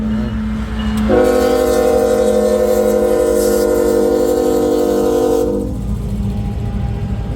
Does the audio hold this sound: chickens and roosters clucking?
no